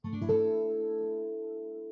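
A single suspended second chord is strummed on guitar and left to ring, its notes sustaining clearly and slowly fading out.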